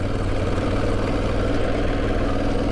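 A truck engine creeping slowly in second gear with a steady, low rumble, close and continuous without revving.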